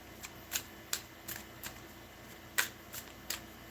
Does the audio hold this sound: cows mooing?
no